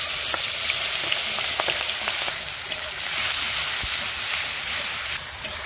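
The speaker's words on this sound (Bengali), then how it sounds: "তো চলুন এবার মশলাগুলো ভেজে নিই।" Spices sizzling and frying in hot oil for a koi fish curry, a steady dense hiss with scattered crackles and a few sharper pops, close and continuous.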